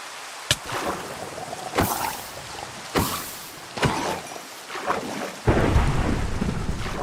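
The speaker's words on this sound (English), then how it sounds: "so we definitely have a thunderstorm here" Thunderstorm in a game world, with several loud cracks and rumbling thunderclaps over steady heavy rain, one close clap after another across the stretch and the rain swelling louder near the end.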